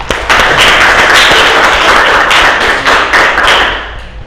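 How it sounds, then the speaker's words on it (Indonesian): A classroom of students applauding during an arts and culture lesson on percussion instruments, steady dense clapping that holds loud and close for about four seconds before tapering off at the end. "Ya, silakan dulu. Tepuk tangan."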